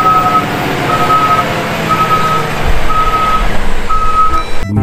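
A toy Volvo truck sounding its reversing alarm, loud and close, with evenly spaced electronic beeps about once a second over a constant motor hum.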